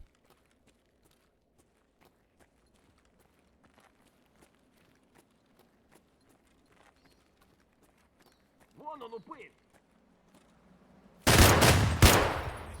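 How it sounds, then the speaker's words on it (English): A loud machine gun burst in Escape from Tarkov erupts near the end, after a long quiet stretch of faint footsteps and a brief voice. "the machine gun just tells our neighbors that we're up here, and they got big guns"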